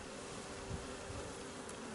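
Honey bees at an open hive with comb being drawn out on a top-box frame give off a steady, dense buzzing hum, close and continuous, with no talk.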